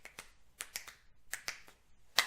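A series of crisp finger snaps in an uneven rhythm, close and clear, with about ten sharp clicks ending in a louder, brighter snap or clap.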